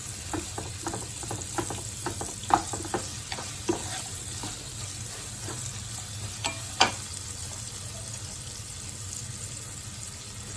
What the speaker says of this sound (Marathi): तेल हे गरम झाले की त्यामध्ये आपण बारीक चिरलेला कांदा टाकून हा कांदा चांगला परतून घ्यायचा आहे